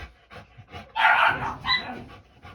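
A dog barks in short bursts and pants between them, close by, with no talk over it.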